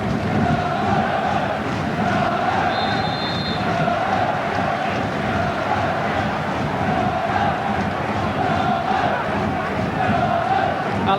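A football crowd at the Valley, Charlton Athletic's ground, roars and chants continuously during a 1998/99 match against Leeds United, a dense, sustained din filling the stadium.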